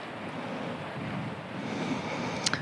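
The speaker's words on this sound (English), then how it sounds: "this wind is cranking right now" Strong wind buffets the microphone on a golf course, a steady broadband roar that swells and gusts throughout with no one talking.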